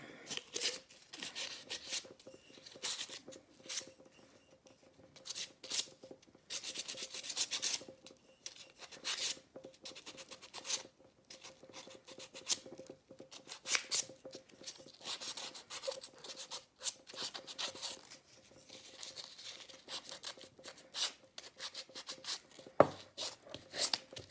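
A painted glass mason jar being roughed up to distress its finish for a planter, with intermittent scratchy rubbing strokes, close and fairly quiet, and no talking.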